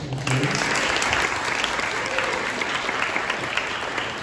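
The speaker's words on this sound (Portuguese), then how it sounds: "Uma salva de palmas para Marcelo." An audience at an internal research seminar's round-table session claps for a guest, a steady wash of moderate applause after a brief faint voice at the start.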